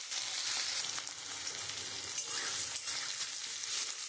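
Chopped onion fries in a pan with nigella seeds for a fish bharta, giving a steady bright hiss and crackle close by, quite faint, with a few stirring scrapes and no speech.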